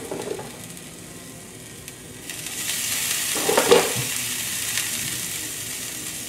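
Ginger and garlic hit a hot frying pan with a steady sizzle that swells into a louder, brighter hiss partway through, then keeps frying evenly, with no talking.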